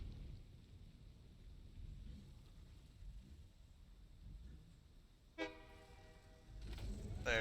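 A train in the factory-building game Satisfactory pulls out with a short horn toot over a low, steady rumble that swells toward the end, heard at moderate distance with no talk.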